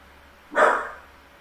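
One short, sharp dog bark from the strategy game Game of Empires, a single loud yelp rising out of quiet background and fading over half a second.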